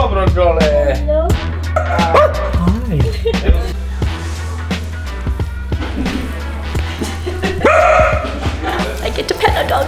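A pet dog in a Serbian apartment in Belgrade barks in short bursts over a busy indoor mix of voices and clatter, with a few yips standing out.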